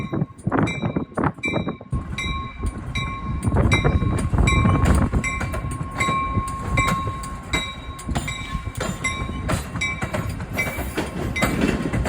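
A train rolls past nearby on Chicago's Roosevelt Road with steady rumbling and rhythmic clacking of wheels over rail joints, a high metallic squeal ringing above it throughout.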